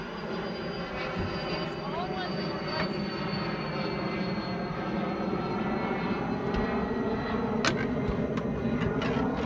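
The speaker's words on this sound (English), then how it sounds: "Thanks, plane, for coming over right at the wrong time." A propeller airplane drones overhead above a fishing boat, a broad steady roar that fills the scene with a few faint knocks and voices beneath it.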